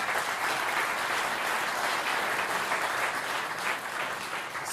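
Studio audience applauding an actor on a French television talk show, a dense, steady wash of many hands clapping close and loud for the full length without a break.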